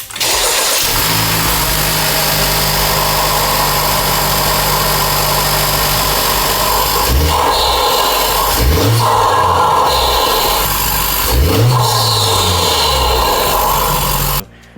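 A Honda Civic Type R FL5 with a titanium inlet pipe, parked with its rev limiter active, starts up and settles into a steady idle, then gets three quick revs that rise and fall, loud and close.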